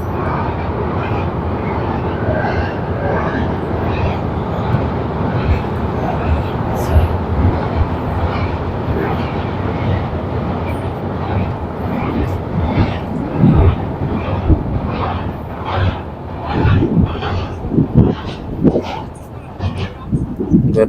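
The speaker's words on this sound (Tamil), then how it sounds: "ட்ரெயின் போகுது." A train rumbles steadily across a bridge over the Yamuna river, a loud, continuous clatter of wheels on rails with rhythmic knocks that grow sharper toward the end, heard from close by.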